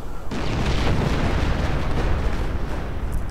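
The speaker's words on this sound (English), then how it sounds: "Airburst shells, regular shells." Airburst and regular artillery shells explode in a 1v1 strategy video game, a dense, continuous rumble of overlapping blasts that stays loud and nearly unbroken throughout.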